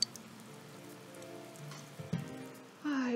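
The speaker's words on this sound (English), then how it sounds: "Good thing it looks like the rain will keep up all night." Steady soft rain patter from the video game Persona 4, a faint continuous hiss with a few brief louder knocks and a tonal game sound swelling near the end.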